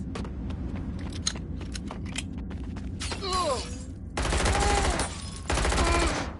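Gunfire in the video game Watch Dogs Legion on PS4 Pro: rapid bursts of shots, then two loud sustained volleys of automatic fire with clanking mechanical sounds between them.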